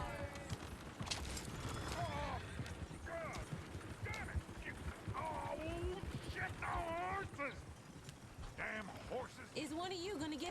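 Horse hooves clip-clopping through a busy Red Dead Redemption 2 town, steady rhythmic clopping mixed with a bustling crowd of voices and chatter throughout.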